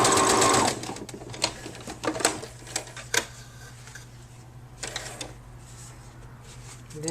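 A sewing machine quilts fashion fabric, whirring briefly up close at first and then giving way to soft, intermittent mechanical ticks and clicks.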